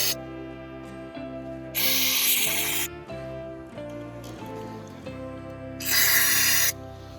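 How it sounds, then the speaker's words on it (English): Two loud bursts of aerosol cleaner spray hiss into a windmill's oil pan, each lasting about a second, separated by quieter clanking and music in the background. "Might spray a little in the bottom just to clean things out too."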